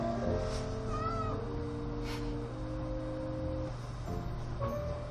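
A domestic cat meows a few times up close, short plaintive calls rising above a steady humming background, with no talking.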